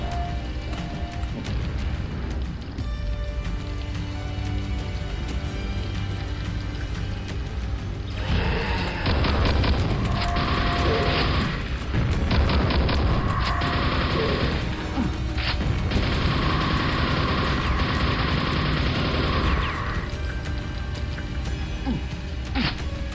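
Heavy crashing blasts from a grenade going off in a video game set near a Mayan pyramid, a loud burst of noise swelling and sustaining for several seconds amid dense game sound, with no talking.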